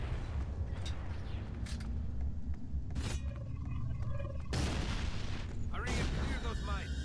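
Enemy gunfire and explosive booms from a World War setting in Resistance Retribution, sharp bursts punctuating a steady rumbling backdrop, with someone talking over the action at times.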